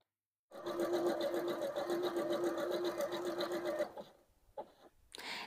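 Janome sewing machine stitching a variable zigzag, a fast steady mechanical whir and clatter running for about three seconds, then slowing and stopping with a few short bursts.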